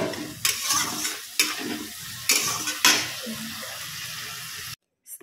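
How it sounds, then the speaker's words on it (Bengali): Spices fry in a pan on a gas stove while being stirred, a loud continuous sizzle broken by four regular scraping strokes about a second apart, ending in a sudden cut to silence. "তার উপর ঝটপট দিয়ে নাড়িয়ে নিলাম"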